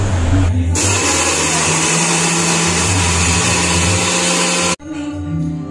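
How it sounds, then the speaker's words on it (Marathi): A mixer grinder whirs loudly and steadily, grinding dry chutney ingredients with spices for vada pav, a continuous motor drone that cuts off abruptly near the end, followed by a brief quieter tail. "त्यानंतर हे सगळं जिन्नस एकदा मिक्सरमध्ये फिरवून घ्यायचं आहे"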